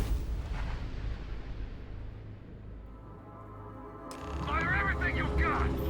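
Ship weapons firing during a space battle in the game Starfield: deep booming blasts and rumbling bursts, heavy at first, easing, then swelling again with a sharper burst near the end.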